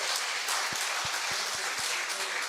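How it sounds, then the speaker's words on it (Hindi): Audience at a Hindi poetry recital (kavi sammelan) clapping loudly, a dense, steady burst of many hands with a few sharper individual claps standing out. "मैं चाहता हूं कि बड़े भैया अर्जुन सिसोदिया के साहस के लिए एक बार जोरदार तालियां बड़े भाई के लिए आप निवेदित करें।"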